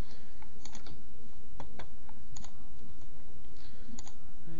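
Mouse clicks and key taps at a computer while selecting files with the Ctrl key held down: sharp, close clicks scattered irregularly over a faint steady background hum.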